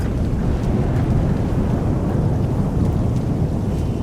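A thunderstorm in Microsoft Flight Simulator 2024 gives a steady, loud, dense roar of rain and wind. It stays even throughout, with no talking over it.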